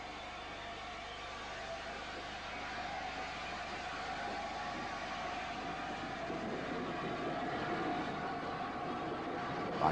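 An A4-class steam locomotive, number 29 Woodcock, runs along the railway in a steady, continuous rolling rumble that grows slightly louder toward the end, with no distinct beats and no voices.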